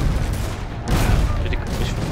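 A cannon fires in the video game Risen 3, giving a dense, rumbling boom that swells midway over a constant loud low roar of game noise.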